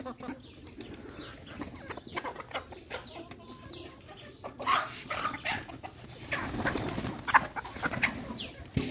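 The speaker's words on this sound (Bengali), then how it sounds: "মুরগি আর কবুতর মিক্স করে খাবার খাচ্ছে।" Chickens and pigeons feeding together from shared feed on a farm, with soft clucking, cooing and pecking scattered close by at a low, steady level, with no talking.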